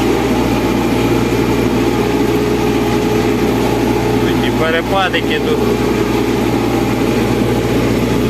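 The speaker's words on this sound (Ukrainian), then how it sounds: "Важкувато так трактору йде." A heavy tractor engine drones loudly and steadily, straining while pulling an AG 2.4 disc harrow through a sunflower field at about 9 km/h, while someone speaks briefly midway over the constant labored rumble.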